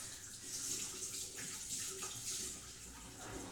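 Water running from a kitchen sink tap, a soft, steady hiss and splash heard at low level with no speech.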